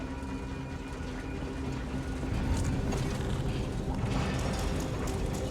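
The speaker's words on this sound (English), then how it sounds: "Now to get that door open." A heavy door mechanism grinds open in The Elder Scrolls Online, a sustained mechanical rumble with ratcheting, gear-like clicks that swells louder partway through and continues to the end.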